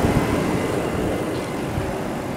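A 1999 Lexus LX 470 with a V8 and about 220,000 miles idles close by, giving a steady, even engine rumble with no voices.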